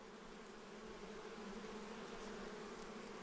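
Honeybees buzzing inside a hive, a dense, continuous hum with no breaks, heard close up and at a low, even level.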